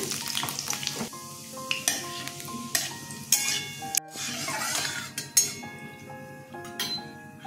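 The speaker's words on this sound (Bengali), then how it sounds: "তেজপাতা, শুকনো লঙ্কা দিয়ে দিলাম, জিরে দিয়ে দিলাম ফোড়নে" Bay leaf, dried chillies and cumin sizzle in hot oil as a spice tempering, a lively crackling hiss near the mic, mixed with metal utensil clinks and scrapes over background music.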